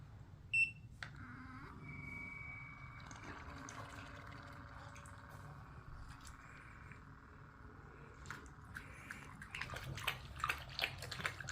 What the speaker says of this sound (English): So the water goes up here, out from there, comes in here, circulate to the filter and come back out.